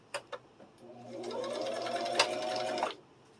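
Home sewing machine stitching fabric for a kitchen boa, running in one steady whirring burst of about two seconds after a few short clicks, close and clear with no talk over it.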